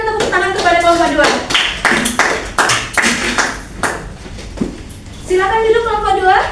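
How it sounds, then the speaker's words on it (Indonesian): A middle school math class claps for a group of students: choppy bursts of hand clapping in the classroom, with voices talking between and over the claps. "kita kan tepuk tangan kepada kelompok 2"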